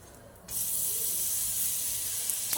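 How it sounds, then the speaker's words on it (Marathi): Pav bread spread with Amul butter toasts on a pan, a steady hiss of sizzling that starts suddenly and holds evenly. "छान आपले पाव बटरमध्ये भाजून घेतले आहेत"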